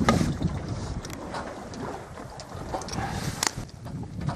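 Sailboat becalmed on the Balearic Sea with rolling swells, giving soft, low water wash and light wind buffeting against the microphone, fairly close and fairly quiet.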